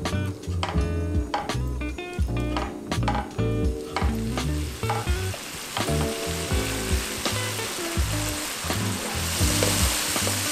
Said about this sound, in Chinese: 大家煎豆腐的时候啊，要有点耐心